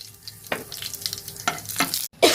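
Black cumin seeds and two dried red chillies crackle as they are tempered in hot oil, giving close sizzling bursts in short waves with stirring between them.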